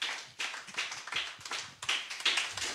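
A church congregation claps in acclamation of Jesus, a fairly quick rhythm of hand claps that comes in uneven bursts and swells, close and steady, with no voices over it.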